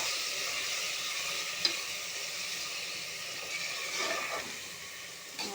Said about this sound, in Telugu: ఇప్పుడు టమాటాలు వేసేసుకుంటున్నాను. ఒక 4 టమాటాలు వేసానండి.